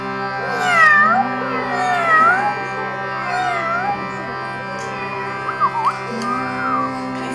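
Several cats meow and yowl over and around one another in a steady run of rising and falling cries, close and fairly loud.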